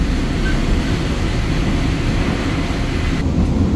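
Local Jatiluhur commuter train on the Cikampek–Cikarang route, heard from inside as a loud, steady rumbling roar of the carriage in motion, continuous throughout.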